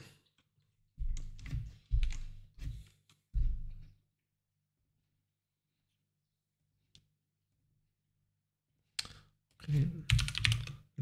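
Close-up keyboard typing on a computer comes in quick clattering bursts, falls silent for several seconds, then resumes in a denser flurry of keystrokes.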